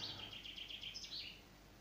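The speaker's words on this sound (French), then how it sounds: "j'entends les oiseaux là qui chantent" Birds singing outdoors on a pleasant day, a run of quick chirping phrases repeating for over a second, fairly faint and distant, with no talk over them.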